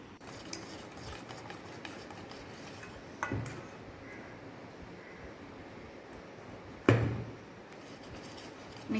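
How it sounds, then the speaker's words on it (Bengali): Mango pulp, sugar and oil are slowly stirred together into cake batter, a faint, soft swishing with a couple of sharp utensil knocks against the bowl. "মেশাচ্ছি আস্তে আস্তে করে, মেশাবো এটাকে।"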